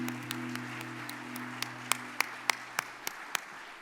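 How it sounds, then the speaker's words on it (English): Scattered, sparse clapping from an audience at a business awards ceremony, with individual sharp claps standing out over a steady low hum. "Round of applause, please."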